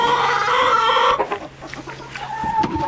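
Chickens cluck and murmur around a chicken feeder, close and loud, with overlapping calls fading into scattered softer clucks.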